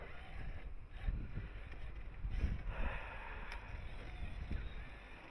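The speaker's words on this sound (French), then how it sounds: "C'est un vent de bâtard." Strong cold wind buffeting outdoors below twelve degrees, a low rumbling roar with irregular gusts swelling and fading, fairly faint overall, no clear talking.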